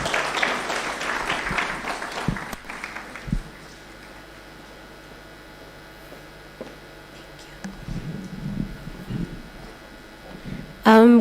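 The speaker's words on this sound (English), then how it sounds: "So let's clap for her." An audience at a data protection certificate graduation at Strathmore University gives a short burst of clapping that fades within a few seconds, leaving a quiet room with scattered sounds and a brief voice.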